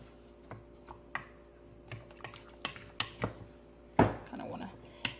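Mexican beef stew stirred in a pot: quiet, scattered clinks and scrapes of a spoon against the pot, irregular and close, with one louder knock near the end.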